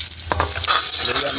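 Ginger frying in a pan while cooking catfish and mudfish, a brief, close sizzle with a quick stirring scrape, heard alone.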